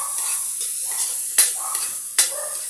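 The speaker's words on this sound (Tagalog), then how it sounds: "Isasalin na natin yung ampalaya." Bitter gourd (ampalaya) hits a hot pan and sizzles steadily and loudly up close, with a couple of sharper hissing bursts as it is stirred, no talk.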